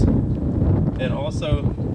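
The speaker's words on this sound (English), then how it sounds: "sorry about the wind" Steady low rumbling wind buffeting the microphone, with a brief bit of speech cutting through near the end.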